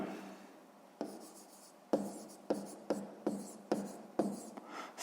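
A pen writing on paper during a sixth-grade maths exercise, making a series of distinct scratchy strokes roughly every half second, close and soft with no talking.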